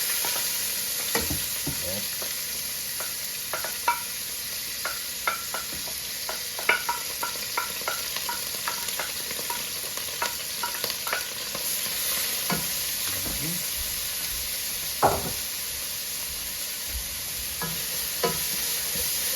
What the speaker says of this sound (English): I'm gonna start to saute my onion and carrot and stuff.